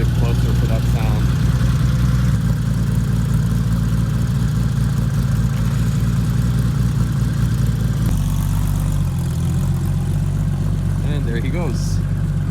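A Porsche 901 engine idles just after start-up, a steady low rumbling burble that holds throughout with a slight shift partway, while people talk nearby over it.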